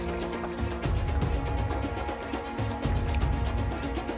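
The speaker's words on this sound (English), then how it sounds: "Adding another cup of water." Water pours into a pot of Dominican-style arroz con pollo with chicken and rice, a steady close gurgling splash with bubbly trickling that swells and eases for several seconds.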